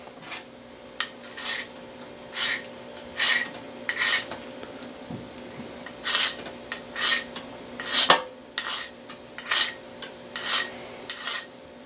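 Scraper dragging over residue on a Vespa scooter fuel tank being restored, a series of short rasping strokes repeated at an even pace, close and fairly loud, with no talking.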